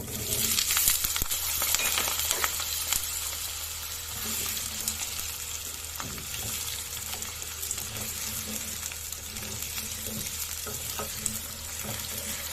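Potatoes with slit green chillies and nigella seeds sizzle in hot oil, a loud steady crackling fry with occasional sharp clinks and utensil taps over the sustained hiss, and no one speaking.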